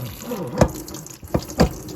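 Water poured over hay cubes and beet pulp to soak them, a close splashing pour with a few louder gushes and sloshes against a soft background wash.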